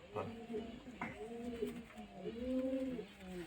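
Pigeons at home cooing nearby, a couple of soft rolling coos repeating in a slow rhythm, with a faint knock in between.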